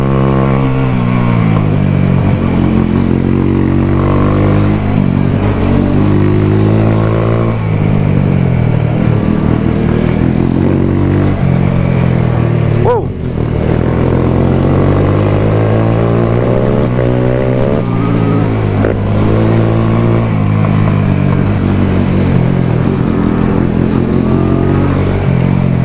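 Dirt bikes and a quad ridden at full throttle on a night ride, engines roaring loud and continuously with rising and falling revs and gear changes, close by.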